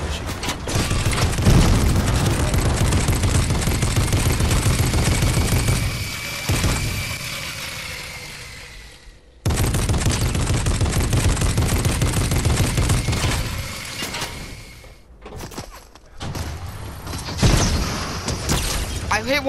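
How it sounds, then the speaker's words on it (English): Video game gunfire from a duos match, dense bursts of rapid shots and booms close and loud, breaking off briefly near the middle and again toward the end, with a voice talking through it. "There's some shooting downstream."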